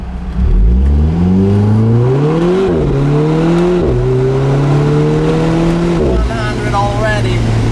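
An Alfa Romeo 4C Spider Italia accelerates hard in first gear after a kick-down, its engine loud and close as it revs up in rising sweeps broken by brief dips at shifts.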